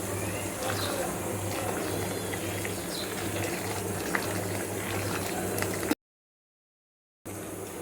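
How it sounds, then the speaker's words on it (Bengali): A pot of haleem with lentils simmering in a home kitchen in Dhaka, a steady soft bubbling and patter with a low hum beneath, briefly cut out near the end. "হালিম রান্না করছি, যে ডালটা করছি।"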